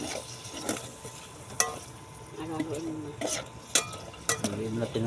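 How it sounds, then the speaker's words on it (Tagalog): Food is stirred in a sizzling pan, with a utensil scraping and clanking against the metal in irregular strokes over a steady frying hiss, close by, with a voice heard faintly. "Haluin natin ng konti."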